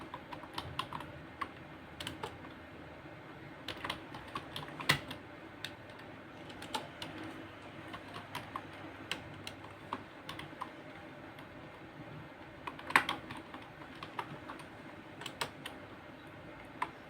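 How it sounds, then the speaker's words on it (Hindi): Computer keyboard typing text into Microsoft Word, irregular bursts of quiet key clicks and taps with occasional sharper strikes, close and alone against faint room noise. "चेंज केस सीखने से पहले हम अपना कुछ मैटर टाइप कर लेते हैं।"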